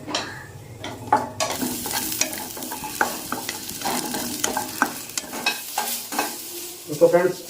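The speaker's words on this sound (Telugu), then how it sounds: "ఫ్రై చేసుకుందాం లైట్గానే" Onions fry lightly in a little oil in a pan on a stove, a soft sizzle broken by frequent scraping and clinking stirs of a spoon against the pan, close and without talk.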